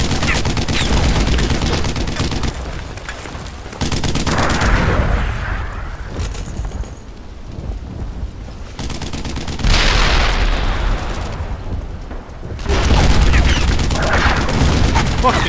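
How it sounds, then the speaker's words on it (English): In the WWII shooter Brothers in Arms: Earned in Blood, heavy gunfire pours onto a tank: dense bursts of machine-gun and rifle fire with booming blasts, loud and close, broken by brief lulls. "Heavy fire on that tank now!"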